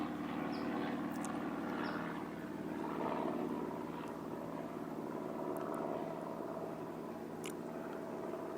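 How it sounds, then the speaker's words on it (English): An airplane passes overhead as a steady, moderately loud engine drone that fills the whole stretch, with slight swells in level and no talk. "wait till this plane flies by."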